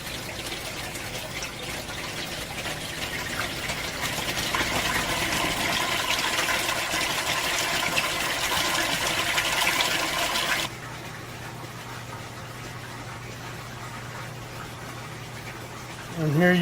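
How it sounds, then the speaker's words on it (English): Water gushing through a fully primed siphon pipe in an aquaponics greenhouse, a loud continuous rushing flow that swells then suddenly drops to a quieter steady pour. "before we have a complete siphon going."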